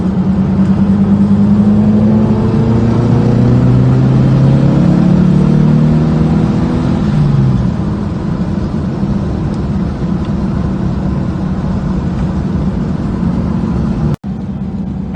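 A 1964 VW Beetle engine revs in neutral, a rising and falling drone that swells strongly over the first seven seconds and then settles to a steady idle hum, with a sharp click near the end.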